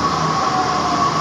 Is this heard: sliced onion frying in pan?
no